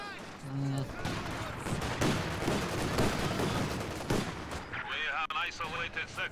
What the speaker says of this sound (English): Oh, big salvo.